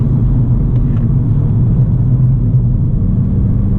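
Steady, loud engine and road rumble from inside a moving car held at around 3,500 RPM, a dense low drone with no talk over it.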